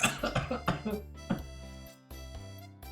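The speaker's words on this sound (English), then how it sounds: "I just recovered from having a cough and everything. Now it's showing up." Several quick, sharp coughs in a burst, followed by one more cough after a short pause, close and fairly quiet.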